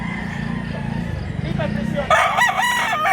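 A rooster crows once near the end, loud and close, over a steady low hum and people talking in the background.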